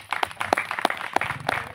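A church congregation claps hands together in a short burst of sharp, irregular claps, moderately close and fairly quiet.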